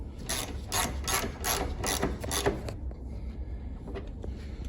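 Rapid ratchet clicks from tightening the bumper bolts on a 2006 Ford Mustang, several bursts of close, crisp clicking that stop after about three seconds, leaving a quiet garage hum.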